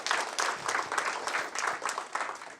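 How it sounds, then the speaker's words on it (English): Conference audience applauding after a talk's introduction, a dense, steady patter of many hands clapping throughout, moderately loud with no voices. "Again, one more round of applause for that."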